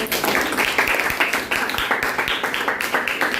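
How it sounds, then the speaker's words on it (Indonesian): Students in a classroom clap their hands together at the teacher's prompt, a steady run of quick, even bursts of clapping at moderate loudness with no talking over it. "Kita berikan tepuk tangan dulu."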